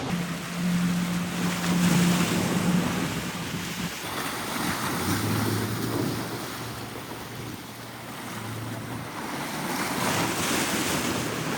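Sea waves washing against a breakwater on Marsa Matruh beach, a steady, fairly loud surf roar with wind buffeting the microphone and a low engine-like hum drifting in and out.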